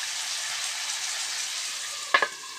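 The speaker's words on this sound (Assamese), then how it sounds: "অলপ সময় মাংসকণ ভাজি ল'ম।" Goat meat frying in a pan with salt, turmeric and green chillies, a soft continuous sizzle with two brief sharper clatters of stirring near the end, no talk.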